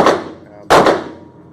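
A rifle fires two sharp, loud shots about 0.7 seconds apart outdoors, each cracking and then decaying into a short echo tail.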